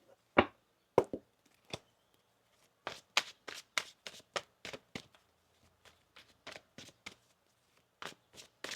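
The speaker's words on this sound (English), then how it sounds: "Let me get one more shuffle here" Tarot cards are shuffled close up in quiet surroundings, with a few sharp snaps and then a rapid series of soft riffling bursts.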